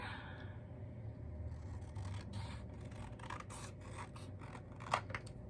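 Scissors trim the bottom edge off a sheet of paper for a pop art craft, a series of faint, close snips and rustles over a low background hum, ending with a sharper final cut.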